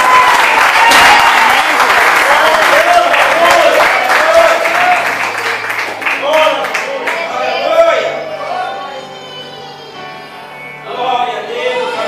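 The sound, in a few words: congregation applauding in a church service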